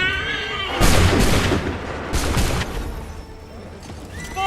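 A musket volley in Assassin's Creed 3 Remastered erupts as a loud, rolling burst of massed gunfire close by, a second wave of booms following before it fades, with voices shouting around it.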